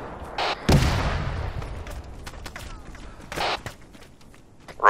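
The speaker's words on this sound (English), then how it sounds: "It sounds like the gun's actually east of us." Distant gun or mortar fire in the ARMA 3 military game: one heavy booming blast with a long rumbling tail, followed by softer thuds and scuffling movement.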